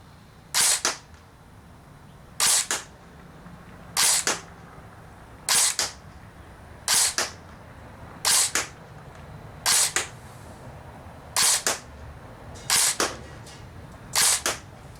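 Airsoft gun firing ten shots one at a time at a downrange target with a barrel and hop-up upgrade, each a sharp, fairly loud crack spaced about 1.5 seconds apart with quiet between them.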